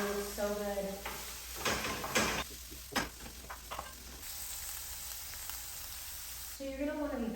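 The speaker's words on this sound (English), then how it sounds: "you're going to want to be patient with the onions because I'm cooking them on low right now" Onions frying on low heat in a pan, a steady soft sizzle with a few stirring scrapes and clatters, with talking at the start and end.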